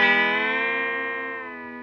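Sustained electric guitar note on a Fender Stratocaster, its pitch bent by the whammy bar on a lifted bridge, ringing rich and steady and slowly sinking in pitch as it fades.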